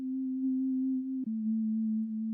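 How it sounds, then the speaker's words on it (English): High sine-wave sub bass for a lofi track, a steady pure tone with a gentle vibrato wobble and a soft auto-filtered edge, briefly dipping at one point before continuing alone. "added some other things like an auto filter, and just this scanner vibrato to give it, a little wobble, and it sounds like this."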